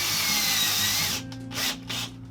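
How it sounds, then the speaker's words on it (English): A power drill used for push-fit plumbing work whines loudly and steadily for about a second, then cuts out and restarts in short bursts. "You don't have to have this type of drill that you see I'm"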